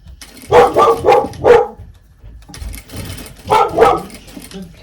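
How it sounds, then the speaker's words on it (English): Several dogs barking in bursts, a cluster of loud barks, a pause, then another volley of barks close by. "The dogs are barking."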